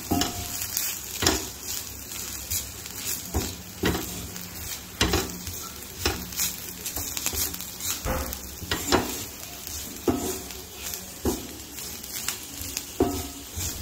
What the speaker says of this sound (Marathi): आता हे मिक्स करायचं आपल्याला खोबरं आणि कांदा.